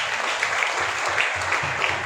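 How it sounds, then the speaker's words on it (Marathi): A school audience applauding a student's exam results at a classes event, steady dense clapping filling the whole stretch at a fairly loud, even level with no voices over it. "त्यासाठी श्रावणीकडे एक जोरदार टाळ्या वाजवा"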